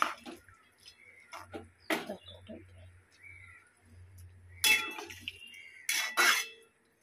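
Vermicelli upma is stirred with salt in a cooking pan, producing intermittent clinks and scrapes of a spoon against the pan with a few louder knocks, while a person talks through much of it.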